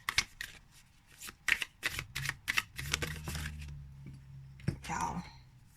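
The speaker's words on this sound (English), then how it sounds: "Let me try shuffling like this" A new oracle card deck is shuffled by hand in a rapid series of crisp riffling bursts, close up, while someone talks quietly.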